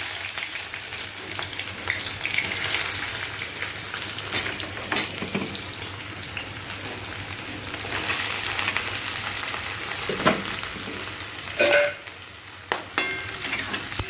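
Onions sizzle steadily in a hot pan of oil with chilli and five-spice tempering, a dense, close frying hiss punctuated by occasional stirring scrapes and clicks.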